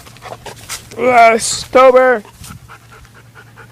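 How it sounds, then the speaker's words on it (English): Toby, a two-year-old dog just adopted from the Humane Society, pants rapidly and close by, with whimpery vocal sounds rising over the breathing while a person speaks briefly. "Here's our new dog."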